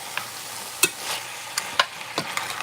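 Short rib stir fry with red and yellow peppers sizzles in a pan while a utensil scrapes and clacks in quick, irregular strokes; no talking.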